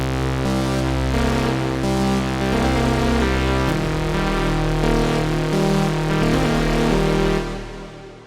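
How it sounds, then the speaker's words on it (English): A synthesizer sync lead patch with layered notes, phasing and distortion effects, playing a simple note sequence; a dense, buzzing, sustained tone shifts pitch partway through and holds steadily before cutting off near the end, with no voices. "how I like to layer my notes together to get the most out of the phasing and distortion effects that you have from the synthesizer patch"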